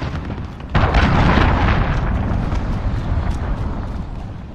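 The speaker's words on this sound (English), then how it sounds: "Enemy cruise missile incoming." An incoming cruise missile strike lands in a Call of Duty match, producing a sudden loud explosive blast followed by a long rumbling roar that slowly fades without dying away.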